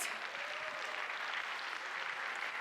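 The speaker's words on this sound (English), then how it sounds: "a big round of applause for all our sponsors" Applause for sponsors from the audience at a Kathak dance academy recital, a steady, moderately loud spread of clapping that carries evenly without pauses or speech.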